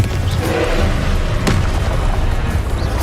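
Confringo, an explosive spell cast in Hogwarts Legacy, bursts in a loud, dense blast with a sharp crack midway, followed by a rumbling wash of debris and noise.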